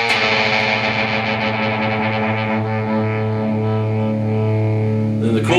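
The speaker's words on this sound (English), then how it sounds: "Let me put distortion on so you can hear a little better." Electric guitar played through a distortion effect for a song lesson, one thick sustained chord ringing steadily and loudly for several seconds, then a fresh pick attack right at the end.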